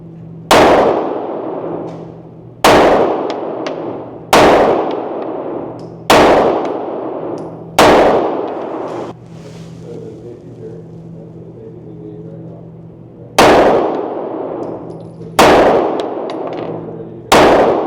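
Loud, sharp metallic clangs from CZ Custom Shadow 2 pistol shots striking steel targets, eight rings in a steady cadence with a pause midway, each ringing out and decaying before the next.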